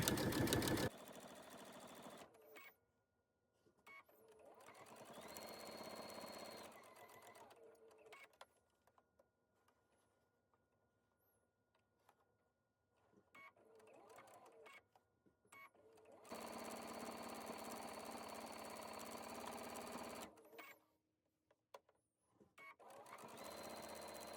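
Sewing machine stitching tape onto quilted hoodie fabric in several bursts of steady motor whir separated by quiet gaps, close by, with a person talking in between runs.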